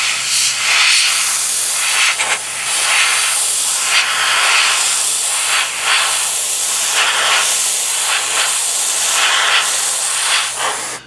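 A spray gun lays paint onto a scale model in a steady, loud hiss, pulsing in a series of close passes with brief gaps between bursts throughout.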